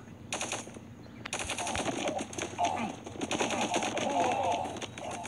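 Assault rifle fire in the mobile shooter Guns of Boom crackles in rapid, sustained automatic bursts, loud and close, with a short pause near the start before the firing resumes and continues steadily.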